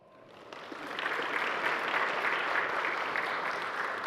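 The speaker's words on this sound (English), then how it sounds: "Give a warm applause for Todd." Warm audience applause at a Mac admin conference session welcoming a presenter, rising quickly after a faint start and holding as a steady, dense wash of clapping from a large seated crowd.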